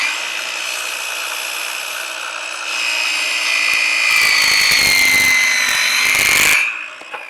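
A battery-powered saw cutting wet wood outdoors, a whining high motor note that deepens and roughens as the blade bites in, loud and close, for several seconds before stopping.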